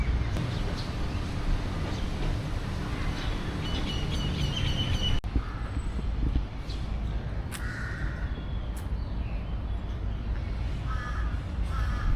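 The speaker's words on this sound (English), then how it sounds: "You can hear the birds." Crows caw now and then over steady outdoor rumble on a Bangkok street, with a few other birds chirping faintly in the background.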